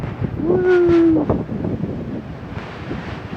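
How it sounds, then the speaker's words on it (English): Wind buffets the microphone beside an old dam on the Ottawa River near Aylmer, a steady rushing roar with a brief whistle-like squeal early on and a voice calling out over it. "It's windy!"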